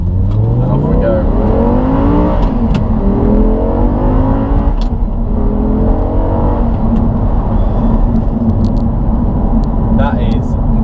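A 2012 Audi R8 with a V10 and manual gearbox pulls away hard, its engine note climbing in rising sweeps through the gears, loud and close, with a voice talking over it.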